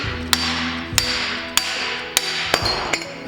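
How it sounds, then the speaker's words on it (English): Hammer smacking the rear wheel bearing out of a 2014-18 Subaru Forester hub: six sharp metallic blows at a steady rhythm, loud and close, with ringing decay between strikes. "Smack the back of the bearing."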